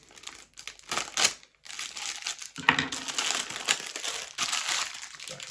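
Plastic packaging from a lost Ukrposhta parcel crinkles and rustles up close in uneven bursts, crackling loudly as a bag inside a bag is handled and pulled apart.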